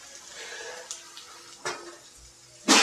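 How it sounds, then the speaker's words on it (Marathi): A lid comes off a pot of cooking potatoes for palak batata bhaji, with a faint simmering background, a couple of light clinks, then a sharper metallic clatter at the end. "झाकण काढून बघूया बटाटा शिजलाय का।"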